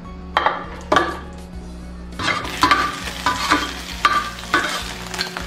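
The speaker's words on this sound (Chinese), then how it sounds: "烙至焦黄，肉香味已经出来了，已经开始出油了" Meat browning on a griddle pan, rendering fat, with a steady sizzle under sharp, repeated scrapes and knocks of a utensil stirring and turning it against the metal.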